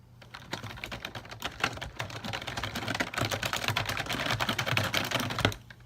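Typing on a Razer computer keyboard, a fast, steady clatter of close key clicks running for several seconds with no talking.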